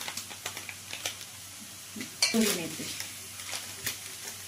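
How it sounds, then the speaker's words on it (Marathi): Onion and masala frying in a pan, a faint sizzle under scattered spoon taps and stirring scrapes, one louder clatter midway. "तसाच आपला कांदाही शिजतोय"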